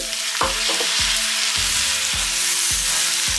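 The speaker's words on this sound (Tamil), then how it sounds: "இப்போ நல்லா மஞ்சள் எல்லாம் இந்த போஞ்சிக்காவில் சேர்கிற மாதிரி நல்லா வதக்கி விடுங்க" Green beans and potato sauté in a pan with turmeric, giving a steady close sizzle broken by about seven sharp scraping knocks as the spatula stirs the vegetables.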